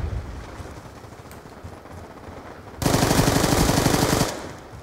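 A burst of rapid automatic gunfire in a boat combat video game starts abruptly partway through, loud and dense for about a second and a half, following quieter game ambience.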